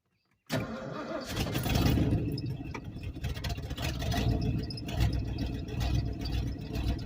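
A car engine cranks and catches on a cold morning start after the gas pedal is pumped, then keeps running in a loud, steady, rough idle close by, with no one talking.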